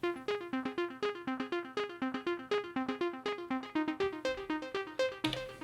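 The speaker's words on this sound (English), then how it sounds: "Or also a different arp to add to the other arps in pattern 3," An Elektron Digitone synth arpeggio for a techno jam pattern ticks along in fast, evenly spaced plucky notes that bounce between pitches, crisp and upfront with no talking.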